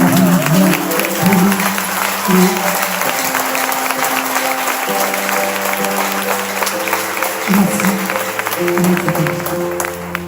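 Steady audience applause fills the whole stretch, a dense clatter of many hands clapping together, with sustained musical tones running underneath.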